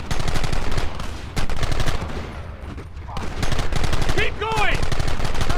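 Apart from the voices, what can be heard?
gunfire in Red Dead Redemption video game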